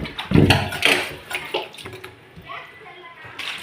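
Tap water splashes and sloshes while a kitchen sink is scrubbed and washed, with close, uneven rushing and scraping. A voice talks over it at the start.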